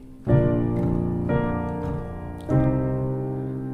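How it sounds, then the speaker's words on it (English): Piano chords resolve a minor tension with C in the top note and C in the bass, struck in three successive rich, ringing attacks that sustain and decay, played alone and close. "So this is the sound of a minor tension release"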